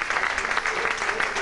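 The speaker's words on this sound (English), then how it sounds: "How about giving them a nice round of applause for that time?" Guests at a birthday party clap in a brief, steady patter of applause, fairly close and even throughout.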